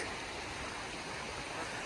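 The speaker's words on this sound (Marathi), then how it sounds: "हे बघा मित्रांनो नदी आलेली आहे मस्त नजारा खतरनाक" A river rushes steadily through the Khanivade Terepada countryside, a continuous broadband wash of flowing water that stays even and close throughout, with no voices.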